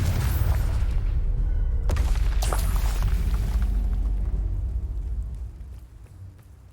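Confringo blasting curse explosions in Hogwarts Legacy: heavy booming blasts over a thick low rumble, with sharp bursts early on before the roar fades away toward the end.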